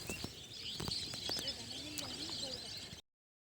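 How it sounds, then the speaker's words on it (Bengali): Many birds singing outdoors at a riverside char near Purbasthali, faint scattered chirps and calls over a soft open-air background, with no talk. "এখানে প্রচুর পাখি রয়েছে, অনেক পাখি রয়েছে এখানে, আর কি সুন্দর আওয়াজ হচ্ছে"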